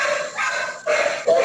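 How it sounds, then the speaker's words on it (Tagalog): A dog barks and yips a few times nearby during an indoor training session for Toktok delivery operators, short sharp calls over a quiet room. "Ma'am Marley, sa inyo po ba yung aso na yan?"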